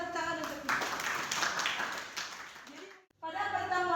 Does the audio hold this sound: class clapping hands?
yes